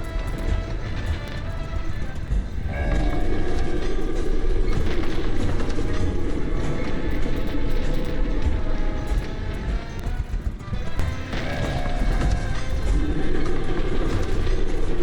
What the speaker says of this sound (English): This train is actually pretty long.